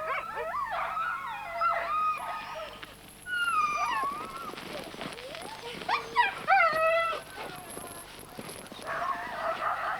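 Greenland sled dogs whimper, yip and howl in a mixed chorus, several animals at close range with rising and falling wails over a steady low background hum.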